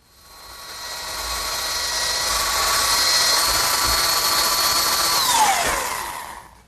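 Power tool driving screws to attach a harvest table's base to its top, a single loud whining run that builds, holds steady for several seconds, then winds down as the motor slows.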